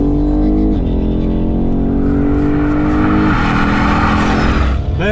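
A BMW car engine accelerating in eco mode during a race, a loud steady drone with rising harmonic tones that shift up in steps as it gains speed, close and continuous throughout.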